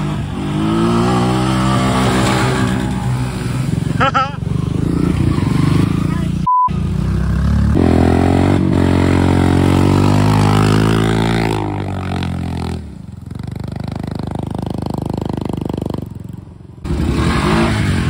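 CF-Moto off-road vehicle engine revving loud and close, rising and falling through gears with harmonic whine, brief cuts and rattling clatter over rough ground, with people talking over it at times.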